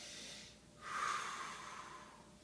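Slow, deep breathing is paced to a finger-wiggle exercise: a long, airy exhale-like rush after a brief pause, close to the microphone and alone.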